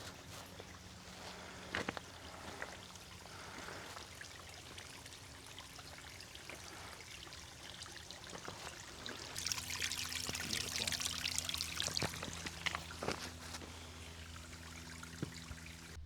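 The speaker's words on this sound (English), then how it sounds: "I hear water flowing." Water trickling and flowing in a small mountain stream beside a hiking trail, a continuous soft rushing that swells louder midway, with a few faint knocks and rustles nearby and no talking.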